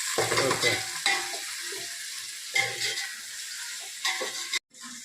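Curry leaves fry in oil in a pan while being stirred, a soft crackling sizzle broken by scraping stirs in bursts, close and fairly quiet, ending with a brief sharp clatter.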